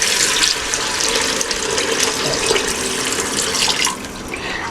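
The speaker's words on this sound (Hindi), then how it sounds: "तो मैं इसके अंदर अभी पानी ऐड कर रही हूँ।" Water pours steadily into a pot of mutton curry being made for gravy, a loud, continuous rushing splash that ends just before the clip does. No one speaks.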